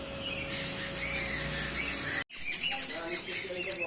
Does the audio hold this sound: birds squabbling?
yes